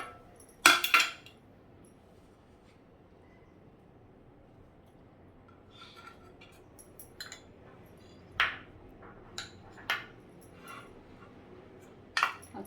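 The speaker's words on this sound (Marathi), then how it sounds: "हे असं गॅसवर ठेवण्याचं हे येतं सँडविच मेकर" A stovetop sandwich maker is handled over a gas burner, giving one sharp metallic clank near the start and then several lighter clinks and taps spread out at intervals against a quiet room.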